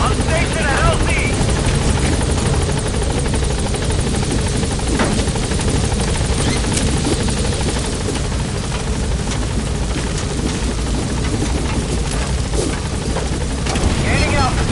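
A military transport helicopter from the game Metal Gear Solid V roars steadily and loudly with a dense rotor wash throughout, while a voice speaks over the engine noise.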